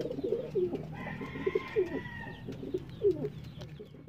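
A pigeon coos repeatedly in soft, low, rolling calls, close by, over a faint background tone.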